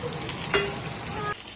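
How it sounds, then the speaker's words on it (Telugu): Taro root pieces fry in hot oil with a close, continuous sizzle, and a brief burst of crackling and a scrape come partway through before the sizzle cuts off abruptly. "ఇవి వేసి మనం ఇట్లా ఫ్రై చేయాలి"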